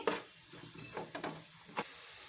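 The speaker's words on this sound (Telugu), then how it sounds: "ఒక అర స్పూను పసుపు వేసుకోవాలి కొంచెం మగ్గే వరకు ఇలా కలపాలండి" Onions with half a spoon of turmeric stirred in a hot pan, a steady low sizzle under several sharp scraping strokes of the spoon.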